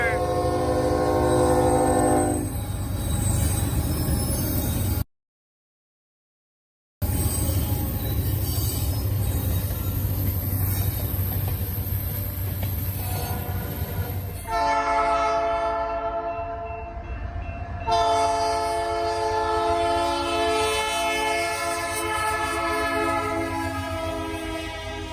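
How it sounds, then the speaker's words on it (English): A train led by its locomotive rolls past, its horn sounding loudly in long blasts over the steady rumble and clatter of wheels and cars, with squealing wheels and the pass lasting throughout. "Lead locomotive here."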